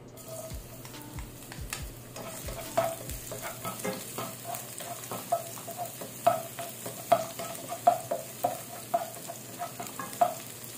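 Garlic frying in a little cooking oil in a heated wok, a soft continuous sizzle with repeated sharp clinks and scrapes of a spatula stirring, close and fairly quiet.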